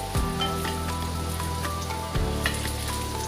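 Stuffed bitter gourds (karela) roast in a hot pan with a soft, steady sizzle and crackle, faint and close, with a low constant hum beneath and a few light clatters.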